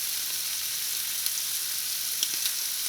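Shrimp seasoned with salt and paprika sizzle steadily in a hot pan, with a constant bright frying hiss and a few faint stirring clicks, and no voices.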